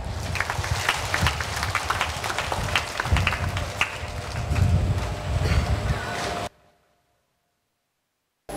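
Applause fills a Catholic Mass at a Vietnamese parish church, a dense sustained clatter of many hands clapping for several seconds before cutting abruptly to silence.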